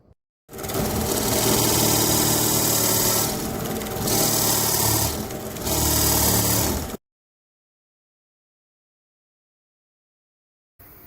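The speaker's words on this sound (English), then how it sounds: "use the Forstner bit to drill the seat for the amiibo" Forstner bit boring a seat into plywood for a figure display base, a loud steady whir about six seconds long with two brief dips as the bit bites, then silence and a short faint sound at the end.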